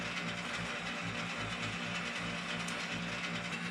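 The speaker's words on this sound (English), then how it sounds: "Tighten him up on there." A rotisserie spit on a braai grill, set over hot coals for roasting a whole pig, is tightened with a steady run of close ratchet clicks under a low, even background.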